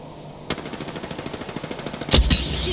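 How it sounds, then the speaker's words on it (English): Rapid automatic gunfire in the Apex Legends battle royale game, a steady stream of crisp shots after a sharp first crack, ending in a couple of louder, heavier blasts close by. "Shooting."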